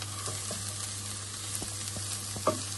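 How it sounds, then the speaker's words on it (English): Peppers and spring onion frying in a pan for a vegetable pie, a steady close sizzle with a low hum beneath and a few light stirring scrapes, ending in a brief louder clink. "now we're going to add the peppers and the spring onion to it and cook them first"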